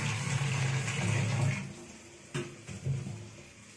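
Water splashes into a pan of frying ground-spice masala for a red lentil fritter curry, poured from the bowl that held the lentil paste; a steady pour for about a second and a half, then brief splashes alone.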